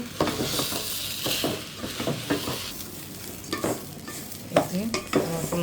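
Washed pulao rice frying in a pan, with a steady sizzle under repeated scraping strokes of a stirring spoon and several metallic clinks.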